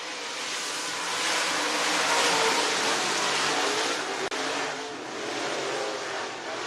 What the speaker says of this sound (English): Bandit Race Cars Heat number 2 underway.